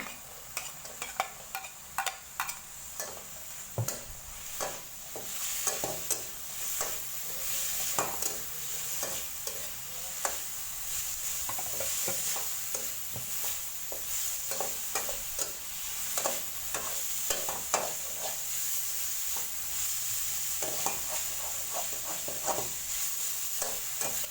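Garlic and carrots stir-fry in a little oil for a pork and carrot macaroni dish. A steady sizzle runs throughout, broken by frequent scraping and clinking from a spatula against the pan, with no talking.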